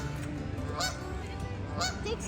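A goose at Goose Pond in Captain Tilly Park, New York, gives two loud, close honks about a second apart over a constant outdoor background.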